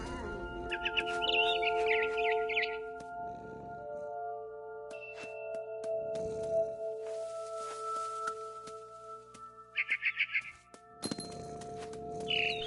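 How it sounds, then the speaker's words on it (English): A barn swallow chirping in What Remains of Edith Finch: short bursts of high, rapid twittering near the start and again near the end, over a steady tonal musical drone with a few soft thuds between. "Then I heard chirping outside my window. It was a barn swallow going back to her nest."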